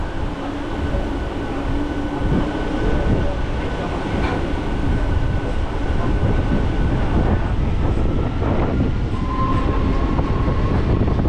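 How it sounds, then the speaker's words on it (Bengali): A special Rath Yatra train to Digha pulling out of Deshpran station, heard from on board as a steady, loud rumble of wheels and carriages that holds without pause throughout. "এবং যথারীতি দেশপ্রাণ থেকে আমাদের ট্রেন ছেড়েও দিল।"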